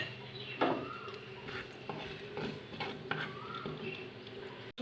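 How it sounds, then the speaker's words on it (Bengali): Mustard seeds fry in hot oil in a wok, giving off scattered sharp pops and light crackles that are faint and uneven, with soft kitchen clatter mixed in. "সর্ষেটা ভাজা হয়ে গেছে"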